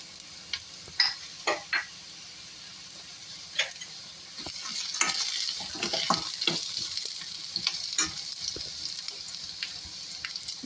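A spatula knocks and scrapes as fried peanuts are stirred into onions in a pan for kanda poha, giving scattered close clatters over a low sizzle that grows busier midway.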